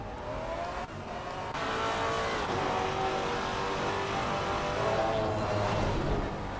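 A Maserati GT4 race car at Brands Hatch in the Assetto Corsa Competizione racing game oversteers, with a loud, continuous engine roar rising and shifting in pitch through the corner and faint tyre noise, with no talking.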